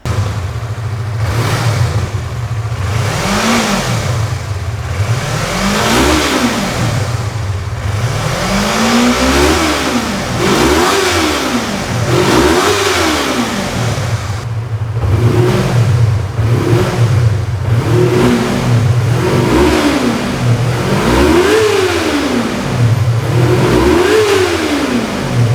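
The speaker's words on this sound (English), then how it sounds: "have you guys wondered how the MT-25 sounds like with the stock exhaust?" A Yamaha MT-25 motorcycle with its stock exhaust is blipped repeatedly from idle, each rev rising and falling in a regular series of close, loud sweeps over a steady idle, with no talking.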